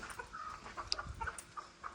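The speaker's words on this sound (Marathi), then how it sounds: "आपल्या काही कोंबड्या खोड बसलेल्या आहेत" Free-range desi hens on a small Maharashtrian poultry farm cluck softly in short scattered calls, faint and close, with a quiet background and no talk.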